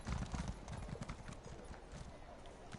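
Horse hooves clip-clop steadily near a stable in Elder Scrolls Online, a busy patter of game sound with a brief whinny, while someone talks over it.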